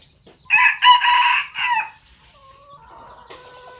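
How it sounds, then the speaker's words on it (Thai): A rooster crows loudly nearby in one long rising call, followed by softer clucking and faint chirps in a quiet setting. "ฟังเสียงไก่ขัน"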